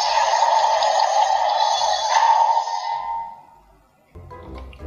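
A DX Century King Sun Driver toy belt from Kamen Rider Black Sun powers on with a loud, harsh electronic roar over a pulsing low beat that fades after a few seconds, followed by a short burst of other sound.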